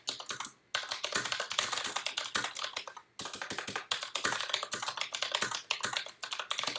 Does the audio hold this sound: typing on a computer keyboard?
yes